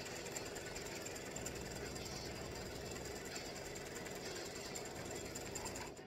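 An embroidery machine running a satin stitch, a dense rapid mechanical chatter that stays steady and loud from start to finish.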